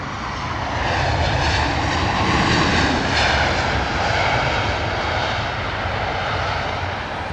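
Loud jet engine roar from a British Airways A320 airliner at London Heathrow, swelling as it passes nearby and then holding steady before easing slightly.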